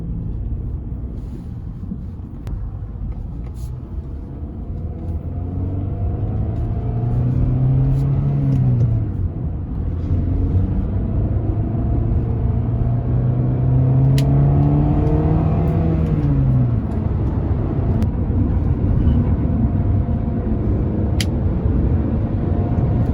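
A 1999 Acura 2.3CL with a 5-speed manual gearbox drives along, its engine rising and falling in pitch through gear changes over a steady, fairly loud road rumble, with no talk.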